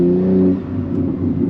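A modified BMW G80 revs on a manual downshift, a loud, close engine note that rises briefly and then falls to a steadier drone, with no talking.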